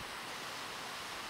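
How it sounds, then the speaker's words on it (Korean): Flowing water in the video game Project Alice: a steady, even rushing wash like a stream or distant surf, faint and unbroken, with no voices. "지금 물소리 들리잖아요?"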